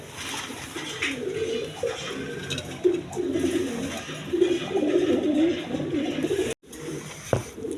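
Pigeons coo repeatedly in a loft of fancy breeds including Bashiraj Koka pairs, a steady overlapping murmur of low coos close by, with a brief pause near the end and no talk.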